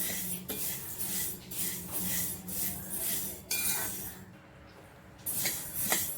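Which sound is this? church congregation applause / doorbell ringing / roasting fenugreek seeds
roasting fenugreek seeds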